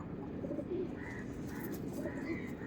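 Pigeon cooing from tournament pigeons kept for sale, a low soft coo repeating several times over steady background noise, with no talking.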